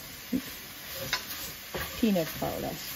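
A dish frying with peanut powder as a spoon stirs it, producing a steady sizzle with scattered scraping strokes and brief vocal sounds from someone nearby.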